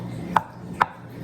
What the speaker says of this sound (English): we're just going to chop the eggs up